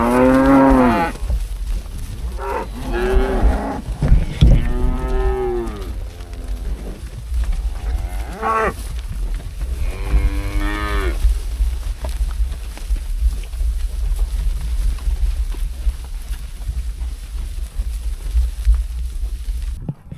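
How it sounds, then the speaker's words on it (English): Cattle being moved on a farm moo loudly and repeatedly, several long drawn-out calls in the first half, followed by a quieter stretch of low rumbling outdoor noise. "So we're gonna go and move the cows."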